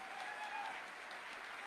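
A seminar audience at a summit gives a short burst of clapping, dense and even, somewhat distant and soft.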